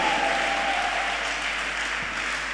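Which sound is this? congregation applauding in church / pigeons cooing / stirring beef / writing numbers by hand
congregation applauding in church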